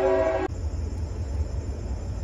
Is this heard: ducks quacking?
no